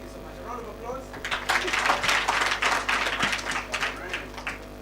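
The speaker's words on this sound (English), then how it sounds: "A round of applause" An audience at a children's climate summit gives a modest round of applause that swells after a second and carries on for several seconds, fairly soft, with voices murmuring underneath.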